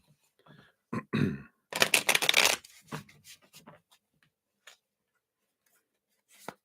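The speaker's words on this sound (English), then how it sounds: "let's give these a shuffle here" Cards are shuffled close by in a quick riffling burst, surrounded by softer rustling and handling noises.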